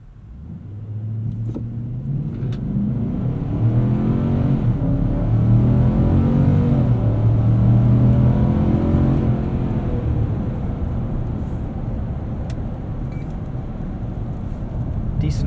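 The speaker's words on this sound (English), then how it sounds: "Let's throw it into 4 high here and do a little 0 to 60," A 2020 Nissan Titan Pro-4X Crew Cab pickup in 4 high accelerates from 0 to 60, its engine rumbling and building steadily from a low idle to a sustained loud roar inside the cab, then easing slightly near the end.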